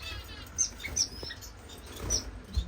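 A saffron finch gives a few short, high chirps, spaced irregularly and fairly close, over a faint low background hum.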